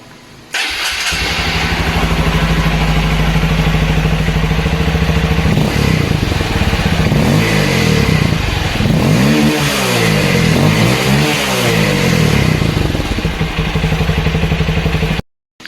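A 2022 Honda CRF150L dirt bike engine fires up and settles into a steady run, then revs repeatedly in rising and falling surges before cutting off abruptly; loud and close.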